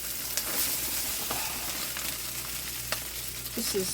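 Rice tipped into a smoking-hot wok for beef fried rice sizzles and crackles steadily, a close, continuous frying hiss with a few scraping stirs.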